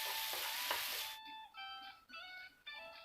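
Chopped onions sizzle steadily in a hot pan for rohu fish curry, a soft, close frying hiss that cuts off partway, leaving faint ringing tones and quiet stirring clinks.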